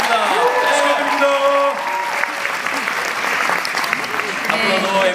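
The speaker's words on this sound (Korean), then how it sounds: "우리 복면가왕팀에게 다시 한번 큰 박수 부탁드리겠습니다" Loud, sustained applause from a large audience at the 2019 MBC Entertainment Awards ceremony, steady clapping with crowd noise and a voice speaking over it throughout.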